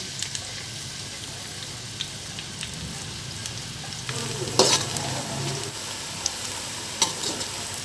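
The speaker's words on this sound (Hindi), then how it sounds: "गोल्डन ब्राउन होने तक प्याज को फ्राई करेंगे।" Onions sizzle in hot oil as they fry toward golden brown for chicken biryani, a steady close crackle with occasional stirring scrapes and brief clinks, no voices.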